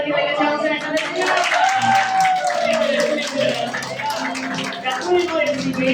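A church congregation claps together, a rhythmic patter of hands running beneath a voice that carries over the top throughout.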